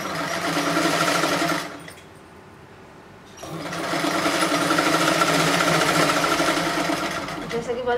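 Sewing machine running close and loud while stitching the folded seam of a khajoori salwar, whirring steadily for about two seconds, pausing for over a second, then stitching again continuously to the end; no talk over it.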